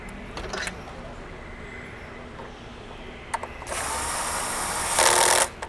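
Wire terminals being tightened on a black DIN block during a halogen-to-LED light tower retrofit, heard as small ratcheting clicks followed by a louder, steady mechanical buzz near the end, close and without talk.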